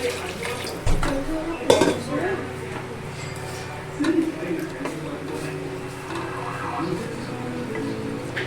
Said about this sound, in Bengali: এখন একটু জল দেব বন্ধুরা তো পরিমাণ মতো আমি জলও ঢেলে নিচ্ছি